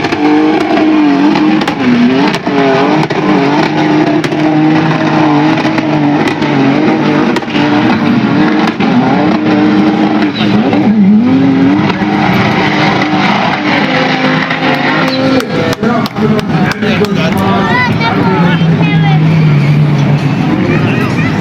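Cars engines rev and roar continuously during a desert stunt event with camel racing, loud and close, under a busy crowd babble and talking voices throughout.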